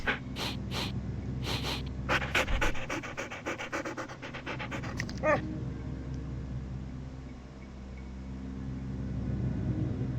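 Puppies in a Nancy Drew video game pant in quick, rhythmic bursts, close and fairly loud, with soft snorts and breaths over a steady low game-ambience hum.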